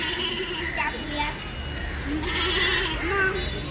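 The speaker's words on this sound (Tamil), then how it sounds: "இது மாடு இல்லை, இது ஆடு." Goat bleating at a temple, a few short wavering calls over a busy background with people talking nearby.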